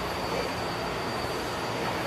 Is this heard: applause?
no